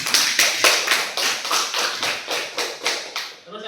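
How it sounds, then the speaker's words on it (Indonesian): A classroom group claps for classmates from group 1, a burst of rhythmic, fairly loud hand claps from several students that keeps a steady beat and ends abruptly with no talking. "Beri tepuk tangan untuk kelompok 1."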